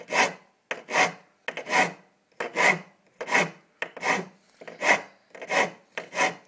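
Frets on a timber cigar box guitar neck being filed, about nine distinct rasping strokes in a slow, regular rhythm, each a close, loud scrape separated by brief silences.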